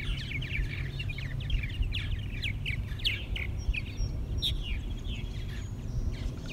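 Purple martins chatter and call in a steady run of short, chirping notes over a constant low background rumble, with no talking.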